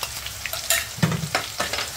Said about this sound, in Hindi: अब इसमें डालेंगे करिया पत्ता, और लहसुन और हरी मिर्च का पेस्ट भी डाल देंगे।